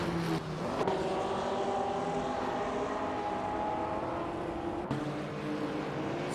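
Engines of 1950s classic race cars, among them a Maserati, in a racing video game: a loud, continuous high-revving roar with shifting tonal whine and a brief gear-change dip, no voices.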